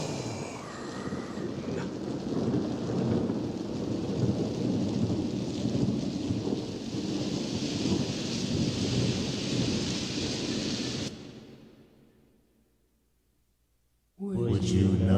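Thunderstorm with heavy rain and rumbling thunder, loud and continuous for about eleven seconds, then fading to near silence before a sudden return of sound at the end.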